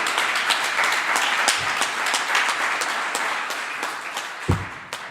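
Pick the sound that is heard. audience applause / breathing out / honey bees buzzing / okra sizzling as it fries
audience applause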